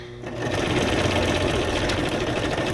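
A sewing machine set to a longer stitch runs through thin paper for a junk journal. Its fast, rhythmic mechanical chatter stays loud and steady from start to finish and starts after a short lead-in.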